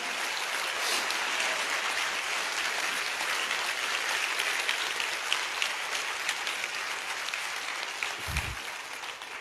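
A church congregation claps loudly during worship, thick continuous applause that holds steady, with one low thump near the end and no clear talk.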